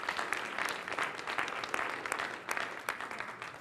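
Sustained applause for the panelists and speakers at a privacy and security summit, a dense, steady crowd clapping with occasional sharper claps standing out, no talking over it.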